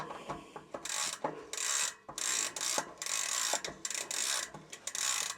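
A bicycle cassette is screwed onto its freehub, giving repeated bursts of fast, close ratcheting clicks separated by short pauses as the cassette is turned in strokes.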